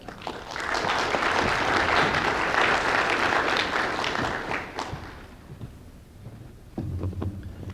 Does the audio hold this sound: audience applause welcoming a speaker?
yes